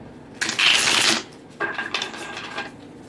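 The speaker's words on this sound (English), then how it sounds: "Ooh, those are some good shuffles right there." Tarot cards are shuffled by hand in two quick bursts of riffling and flapping, the first louder and fuller, the second shorter and softer, with a quiet pause between.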